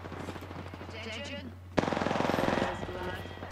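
Automatic gunfire in Apex Legends, a rapid close burst of evenly spaced shots breaking in suddenly after other game sounds, with a voice talking over the action.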